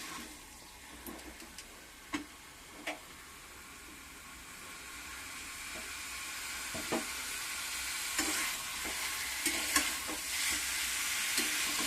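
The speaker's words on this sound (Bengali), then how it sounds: "আদা রসুন পেঁয়াজ বাটা, টমেটো বাটা, লঙ্কা হলুদ সব কিছু দিয়ে ধনে জিরে মরিচ দিয়ে কষছি এটাকে" Ginger, garlic, onion and tomato paste with chilli, turmeric, coriander, cumin and pepper being stirred and fried in a pan for a masala, a steady soft sizzle with intermittent clinks and scrapes of the spoon, growing slightly louder toward the end.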